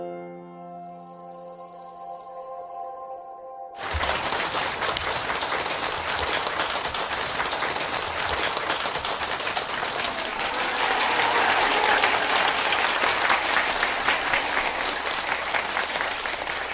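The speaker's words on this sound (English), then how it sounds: "Why you clap it up?" Audience applause erupts suddenly after a few seconds of a sustained musical tone, then carries on as dense, even clapping from many hands for the rest of the stretch, swelling slightly louder near the end.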